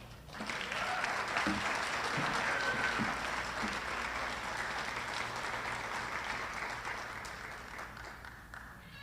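Audience applause fills a graduation ceremony hall after a scholarship recipient is congratulated, a steady, dense wash of clapping from many hands that holds for the full stretch and tapers slightly near the end.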